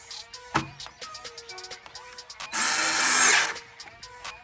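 A fender screw on a Onewheel Pint S is tightened with a power driver, giving one short whirring burst of about a second after scattered small clicks and taps, close up.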